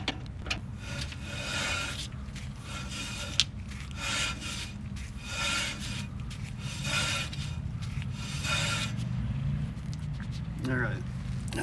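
Drum brake on a 1967 Mustang convertible, the drum dragging against freshly adjusted shoes as it turns, giving a repeated rasping rub in even surges close by, with faint talk in the background.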